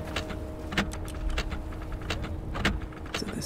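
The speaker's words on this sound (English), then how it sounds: "So the sound of a clock." A clock ticks in the Myst video game, giving sharp, distinct clicks at a regular pace roughly every half second over a faint low hum.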